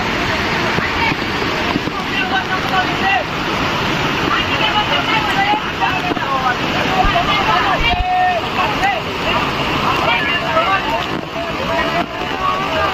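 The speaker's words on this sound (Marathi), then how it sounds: "भरपूर पाण्याचा ताकतीने पाणी पडू राहिलं खालून" Torrential water at Dugarwadi waterfall, flooded and pounding down with great force, fills the scene as a steady, loud, broadband roar that never lets up; voices and crowd activity sit faintly beneath the rushing water.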